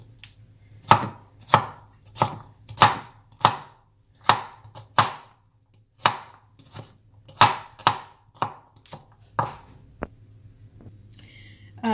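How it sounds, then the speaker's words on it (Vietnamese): Sharp cleaver chops strike a board at a steady, uneven pace, about a dozen heavy thuds close up as pork ribs are cut, with a low hum underneath. "bạn sẽ chặt thành những cái miếng vừa phải như thế này"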